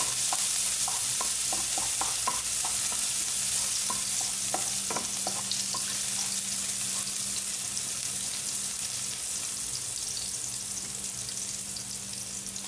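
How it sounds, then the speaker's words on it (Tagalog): Garlic sautés in cooking oil for a sauce to go with fried mackerel, a steady close sizzle with a quick run of spoon clinks and scrapes early on that thin out, leaving the frying hiss alone. "gagamit tayo ng cooking oil. Garlic ang una natin igisa guys."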